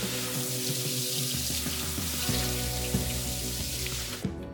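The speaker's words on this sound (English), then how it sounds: "Now we'll look at the flow rate of the shower as it was with no filter installed" Water streams steadily from a household shower head with no filter fitted, a continuous close hiss and splash running alone the whole time before cutting off right at the end.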